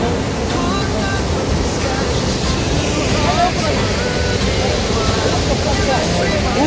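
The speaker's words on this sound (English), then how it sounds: "Waterfall." Constant rushing roar of falling water from a waterfall at Dumbur, steady and broadband, with faint voices and music mixed underneath.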